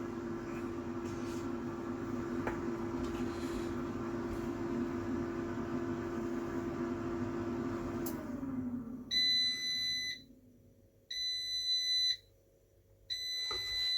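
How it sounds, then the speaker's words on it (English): An air fryer signals that preheating is done with three loud, evenly spaced electronic beeps, each about a second long, sounding alone after a steady low running hum cuts off. "That's the air fryer ready."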